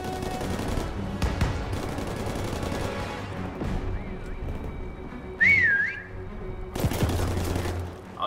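A referee-style whistle shrills in a Call of Duty WW2 prop hunt match, a single wavering blast rising over steady background gunfire and game ambience, with bursts of shooting before and after.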